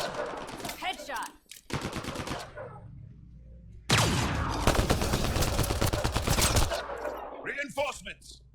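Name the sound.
gunfire in the video game Mass Effect: Andromeda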